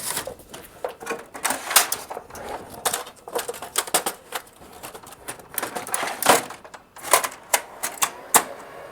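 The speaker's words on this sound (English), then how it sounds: "The printer did come on, so let me see what's going on." A toner printer prints a page with a busy stream of irregular mechanical clicks and clacks, close and fairly loud throughout, with no speech.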